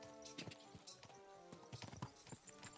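Hooves clip-clopping from a horse in Kingdom Come: Deliverance 2, a steady series of soft, close hoof strikes over a faint musical drone, no voices.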